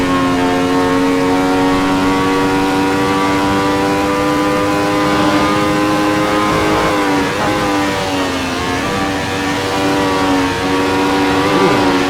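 A vintage 1975 Ferrari 312T racing car engine screams at steady high revs in a racing video game, loud and close, its note dipping and surging briefly through gear changes midway before holding a sustained howl.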